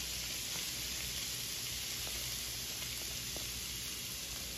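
Carrots tip into onions already frying in a pan, giving a steady, dense sizzle with faint scattered crackles and no voices.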